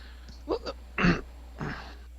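Someone coughs several times into a live, unmuted microphone during an online tabletop game session, a few short, close, rough bursts with brief gaps against a quiet background hum.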